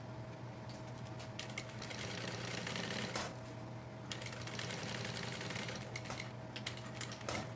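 A sewing machine stitches a backpack lining in a quiet room, a fast continuous mechanical whir with needle clatter lasting the whole stretch.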